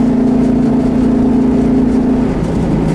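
A loud, steady engine rumble from a 1970 Dodge Challenger drag car, with a rough idle throb and a slight rise in revs, close by, with no voices.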